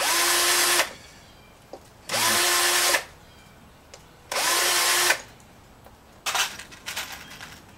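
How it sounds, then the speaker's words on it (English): A handheld power drill deburrs metal pieces for a small coffee table build, whirring loudly in three separate bursts of under a second each, then a few sharp metallic clatters as the parts are handled. "I need to deburr some of these, well, all of them really."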